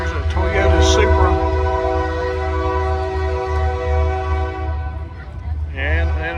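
Train passing at a car cruise-in in Gadsden, Alabama, its loud sustained horn blowing close by over the low rumble of the rail cars, with someone talking over it.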